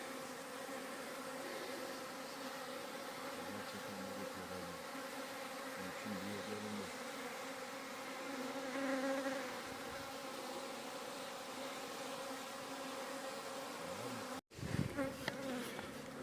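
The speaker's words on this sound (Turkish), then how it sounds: "Babamın arıları şuruba toplandı." Dense, continuous buzzing of many honeybees gathered at a syrup feeder fills the scene at a steady level, ending with a brief sharp knock and rustle.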